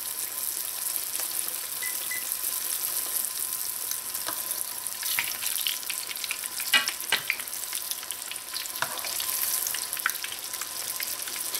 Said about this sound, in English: So I'm going to fry out my fish pies until they're nice and golden brown